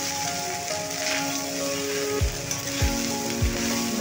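Boiled rice tipped into a hot pan with oil and whole cardamom and cloves, giving a steady crackling sizzle like light rain, with a few soft scraping knocks near the end.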